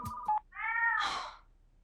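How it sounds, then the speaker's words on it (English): A cat meows once, close and fairly loud, heard through a phone line right after a short electronic tone. "Is this a cat?"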